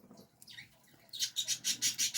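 Small birds chirp in a quick run of bright, repeated calls that starts about halfway through and grows louder and steadier toward the end, after a quieter stretch of faint sounds.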